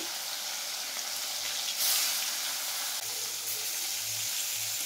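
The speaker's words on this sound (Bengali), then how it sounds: "মাছের টুকরোগুলো এক এক করে ভেজে নেব" Rohu fish pieces frying in plenty of hot oil, a steady soft sizzle and hiss that swells briefly as more pieces go in, with a few faint low clunks and no talking.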